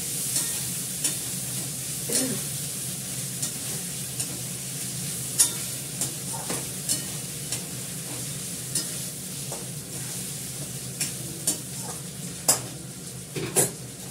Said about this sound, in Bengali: আলুটাও ভাজা হবে, কষাবো, কিছুক্ষণ কষিয়ে মাংসটা দিয়ে আবার কষাবো।